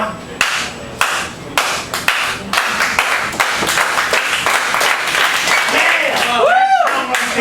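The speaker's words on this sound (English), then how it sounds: "it's a cassette tape of applause" Applause played back from a cassette tape: a few sharp, sparse claps at first, building into denser steady clapping, with a voice shouting over it near the end.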